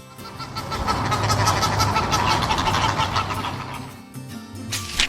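Tall pink flamingo of northern Chile calling: a loud, dense run of honking, clucking calls lasting about four seconds before easing off, with a brief sharp burst at the end.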